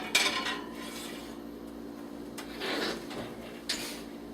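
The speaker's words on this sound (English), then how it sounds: "We're gonna go ahead and put those into our 350-degree preheated oven that we already have behind me here." Metal pans and racks clatter as stuffed jumbo shrimp go into a 350-degree preheated oven, with a few sharp clanks and scrapes over a steady low hum, close by and no talking.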